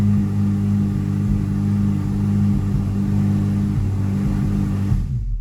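A Chevrolet Corvette C8 Z06 engine with Kooks headers idles loudly and steadily nearby, a deep even rumble that cuts off abruptly at the end.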